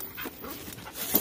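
Very young dog at a kennel yard panting quickly in short, breathy bursts, close and fairly quiet.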